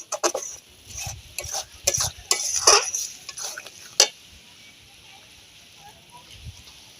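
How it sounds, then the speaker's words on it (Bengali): Duck meat dropped into a pan of fried spice paste releasing oil, giving a burst of sizzling and clattering spoon strikes for a few seconds before settling into a quieter hiss. "এবার আমি মাংসটা দিয়ে দেব।"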